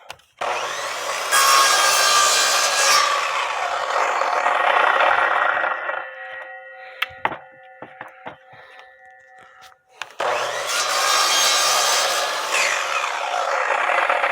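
A saw cuts notches in a deck board with long continuous rasping strokes up close, stopping partway for a few seconds of light knocks and handling before the cutting starts again.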